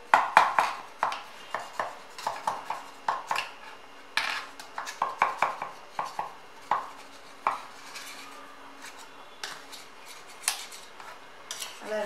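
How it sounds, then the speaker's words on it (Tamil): A knife scraping around the sides of a metal cake tin to release an eggless vanilla cake, making a long series of short, sharp metallic scrapes and taps at an uneven, steady pace close by. "சைடெல்லாம் இந்த கத்தி எடுத்து ரிலீஸ் பண்ணி விடலாம்."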